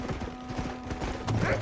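Horses trot in the Red Dead Redemption video game, their hooves making a steady, rhythmic clip-clop that stays moderately close over a soft ambient background.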